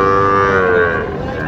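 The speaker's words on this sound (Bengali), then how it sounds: "এটা একটা জার্সি গরু" A Jersey cow at a cattle market lets out one close, loud, drawn-out moo that slides gradually downward in pitch, with faint market background beneath it.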